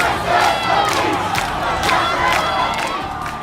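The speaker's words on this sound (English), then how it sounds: "angry crowds take to the streets in the protest of the death of George Floyd" Angry crowd of protesters in city streets in Richmond, shouting and chanting loudly with repeated surges of yelling, close and continuous.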